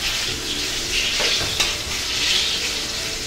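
Aubergine slices fry in olive oil for a gateau d'aubergine, a dense close sizzle with stirring scrapes and a sharp utensil knock midway, steady and loud, with no speech.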